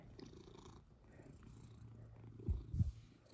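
A cat purring close by, a soft steady rumble with a couple of louder breathy bursts near the end, no talking over it.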